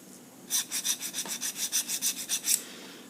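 A small, fine file rasps in quick, even back-and-forth strokes across the cutting edge of a steel ship auger bit, about a dozen close, crisp scrapes over two seconds with no talk.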